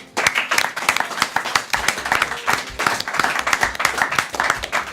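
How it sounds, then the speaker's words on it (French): A studio audience at a French comedy show claps loudly, with crisp, distinct hand claps layered into fast, uneven rhythmic bursts that keep going strongly for the whole stretch. "Vous pouvez encore une fois vous applaudir."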